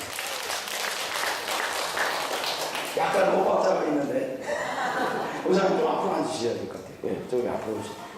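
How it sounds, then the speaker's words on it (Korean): A church congregation at a national gathering claps together in a short burst, mixed with chuckles and laughter, while a voice speaks over the crowd. "박수 한번 쳐주시기 바랍니다."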